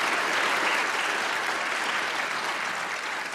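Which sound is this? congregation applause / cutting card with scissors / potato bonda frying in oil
congregation applause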